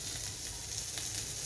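Egg frying in a wok for Maggi noodles, a dense, steady sizzle and crackle of hot oil heard up close and fairly loud, alone without talk.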